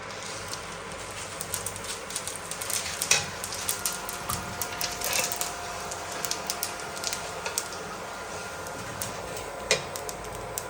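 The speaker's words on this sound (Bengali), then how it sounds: "আমি এই তেলে গোটা জিরে দিয়ে দেবো।" Whole cumin seeds sizzling in hot oil, a steady crackling hiss with scattered sharp pops, close and moderately quiet, with no voices.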